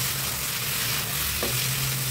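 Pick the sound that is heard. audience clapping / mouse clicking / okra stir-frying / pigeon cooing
okra stir-frying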